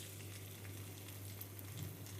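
Garlic frying in hot oil for a tur dal and dill leaves curry, a steady close sizzle with no break and no voices.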